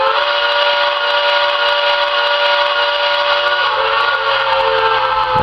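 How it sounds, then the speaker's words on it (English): The horn of a Standard Gauge Stephen Girard model train set, a 392E locomotive pulling seven cars, sounds in one steady, loud, close blast held for about five seconds, its tone shifting slightly near the end, with no talking. "that's approximately a 5-second hold on the horn"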